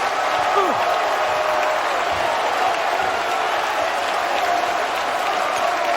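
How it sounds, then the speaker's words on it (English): Basketball arena crowd at a Kentucky at Missouri college game roars and cheers, a steady, loud, dense wash of voices filling the whole stretch without a break. "That gets the Como crowd back up and roaring."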